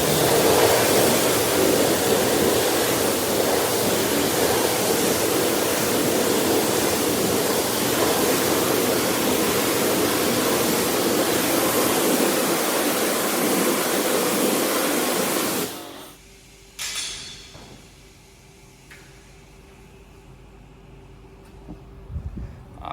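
A steady, loud spray of water rinses car wheels for about fifteen seconds, then cuts off, leaving faint clatter and handling sounds.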